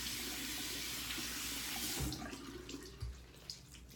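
A bathroom tap runs steadily into a sink during a facial routine, a close, continuous hiss that thins out halfway with a couple of small splashes and knocks.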